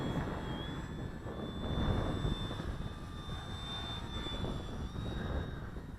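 A Durafly Tundra RC plane flies and banks through turns at a distance, its small electric motor whining steadily with slight pitch shifts over faint outdoor wind noise.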